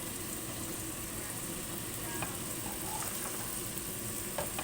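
Chopped vegetables, including carrots, peppers, onion and tomatoes, frying in a pan for pasta, giving a continuous soft sizzle and crackle with an occasional stir, steady and close.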